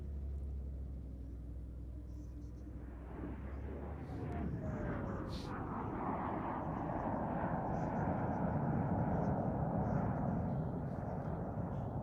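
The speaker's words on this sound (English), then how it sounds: "the Avon, a remarkable engine," A jet aircraft powered by a Rolls-Royce Avon engine passes at an air show, a broad roaring rumble that swells steadily louder as it nears, with a commentator talking over it.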